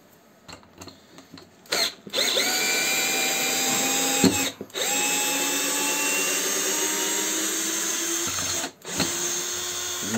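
TopShak TS-ED1 cordless hammer drill driving a large 6×100 screw, whirring at steady speed in long close runs broken by brief pauses, with a few short starts and stops at the outset.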